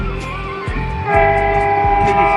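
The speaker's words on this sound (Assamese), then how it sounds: "এই ৰেল আহিছে" A train approaches on a line near an animal corridor, its horn blaring loud and close in sustained tones over a heavy rumble that swells as it nears.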